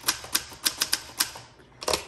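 A 1966 Olympia SF portable travel typewriter with a cursive typeface typing: a quick, uneven run of about nine crisp, close keystroke clacks, with a brief pause before a final pair of strikes.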